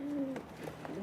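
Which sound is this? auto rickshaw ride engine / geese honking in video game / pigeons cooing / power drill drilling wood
pigeons cooing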